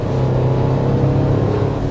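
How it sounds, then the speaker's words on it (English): A 2025 Toyota 4Runner SR5 engine pulls hard as the 8-speed automatic kicks down, giving a loud, steady drone of revs that fills the whole short stretch with no talk. "you get a pretty quick downshift from the 8-speed automatic transmission"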